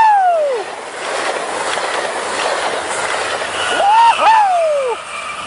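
A BNSF train rolls past nearby at Carlsbad Poinsettia Station at night, with rumbling wheels and loud, sweeping wheel squeals that rise and fall, the noise steady throughout.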